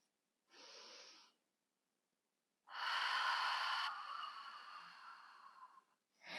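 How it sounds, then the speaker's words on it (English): Slow, deep breathing for a 360-degree pelvic floor exercise: a short inhale, a pause, then a long, airy exhale that fades out, with another breath starting at the end. Close, quiet, and without talk. "So I'm going to breathe in."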